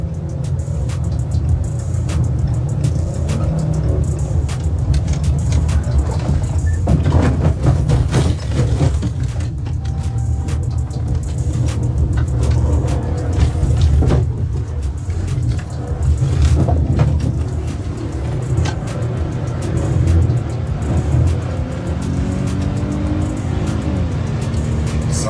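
A car flees on a popped flat tire after hitting a curb, its engine droning and rumbling loudly with a rough, steady low roar and road noise, recorded close from inside or near the vehicle.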